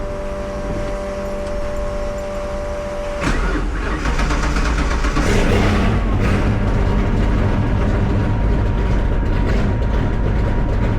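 A car engine cranks and fires up after the gas pedal is pumped three times, starting around three seconds in and settling into a loud, rough, rumbling run. A loose exhaust rattles close by, with no talking.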